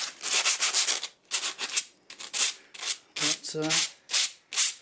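Sandpaper scrubbed against itself to clear clogging after sanding old painted fibreglass, a series of short, close, raspy rubbing bursts separated by brief pauses, with a brief spoken word near the end.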